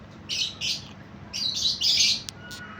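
Several short bursts of bright bird chirps and tweets, close by, in clusters with brief pauses over a faint steady background hum.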